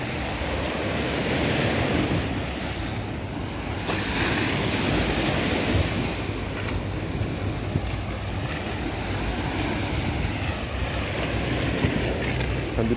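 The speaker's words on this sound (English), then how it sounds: "And this is St. Lawrence Beach here." Ocean waves wash continuously onto St. Lawrence Beach in Christ Church, Barbados, a steady broadband surf roar mixed with gusty wind buffeting the microphone, loud and unbroken throughout.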